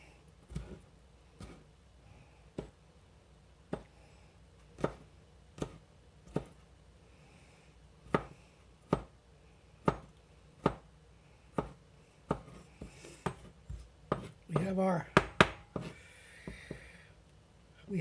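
A knife chopping fresh garden parsley on a board, a regular series of sharp close taps that speed up toward the end, with faint background noise.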